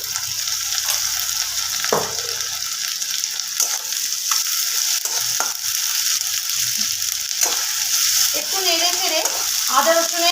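Onion frying in a pan with a spoonful of ginger-garlic paste for a hotel-style egg curry: a loud, continuous sizzle with scraping stir strokes, close up and without speech.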